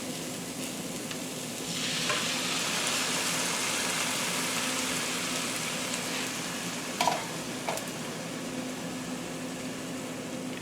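Browned ground beef sizzles steadily in a pan, a broad hiss that swells after a couple of seconds as a can of Southwest corn goes in, with a few clinks near the end.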